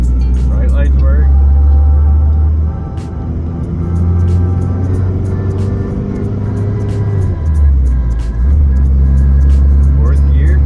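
A Chevrolet S10 pickup with a stick shift swap cruises in fourth gear, its engine giving a loud steady low drone with road rumble throughout and a brief dip in the middle while someone talks over it.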